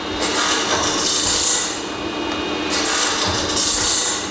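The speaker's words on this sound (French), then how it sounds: "Je contrôle le dressage, nettoyage, dressage, après j'affûte" A file rasps steadily across the teeth of a saw during sharpening, making continuous close scraping strokes with brief pauses between passes.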